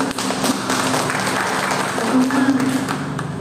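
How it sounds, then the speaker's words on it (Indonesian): Audience applause in a seminar hall, a steady dense clapping texture lasting the whole stretch, with a voice faintly audible over it. "Tepuk tangan dulu."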